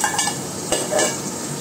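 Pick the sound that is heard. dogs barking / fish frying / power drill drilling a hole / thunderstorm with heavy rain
fish frying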